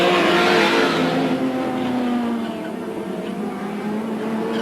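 Touring race cars from the 1989 ATCC round at Mallala, including a Ford Sierra, roar past on track, a loud engine note with a steady drone that fades slightly as the cars move away.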